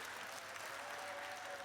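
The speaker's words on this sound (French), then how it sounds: "longuement applaudie" A large audience at a round-table event in Strasbourg claps steadily for the Charlie Hebdo team, a dense, even wash of applause at a distance with no pauses.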